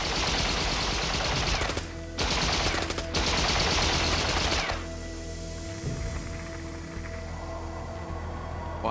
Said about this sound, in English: and the guards open fire